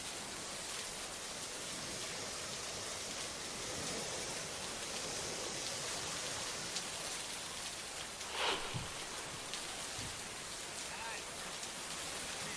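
Heavy rain in the Penganga river area of Risod taluka, Washim district. A dense, even hiss of downpour continues throughout at moderate level, with a brief louder splash near the end.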